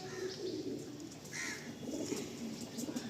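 Pigeons coo in low, soft, continuous throaty murmurs, with a few faint chirps above, a close and quiet chorus with no talk.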